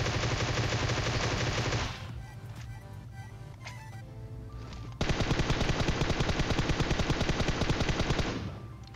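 Rapid automatic gunfire rattles loudly in PUBG Mobile, with one long burst, a short lull holding scattered shots and game sounds, then another sustained volley that fades out near the end.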